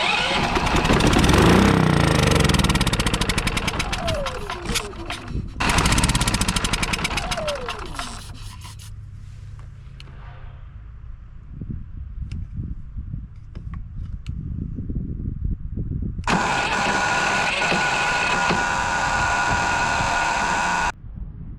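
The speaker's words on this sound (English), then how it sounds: "Man, that's an awful noise, isn't it?" A Westinghouse generator's engine cranking and running rough after a year in storage, loud and ragged with sputtering, uneven firing and bursts of harsh noise, close up.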